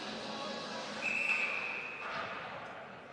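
A referee's whistle at an ice hockey game: one shrill, sustained blast of about half a second, cutting through steady arena crowd noise.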